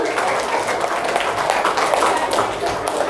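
Elementary school children and guests clapping together in a classroom during an end-of-semester activity, a continuous loud wash of many hands without pause.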